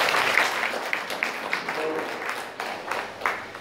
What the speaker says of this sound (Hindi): आप ताली तो बजाइए